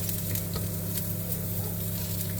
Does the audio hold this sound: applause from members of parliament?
no